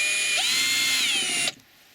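A drill bit cuts countersinks into bolt holes in an HDPE toboggan, giving a steady, high-pitched whine at close range for about a second and a half before it stops abruptly.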